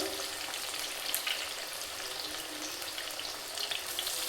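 Masala vada made from chana dal deep-fry in oil over a medium flame, giving a steady, dense, hissing bubble with light crackles, close and even throughout.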